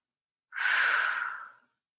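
One deep exhaled breath during a yoga stretch, soft and close, swelling quickly and fading out over about a second with quiet before and after.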